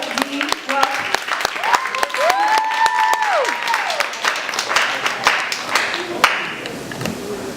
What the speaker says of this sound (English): So clap it up for our future.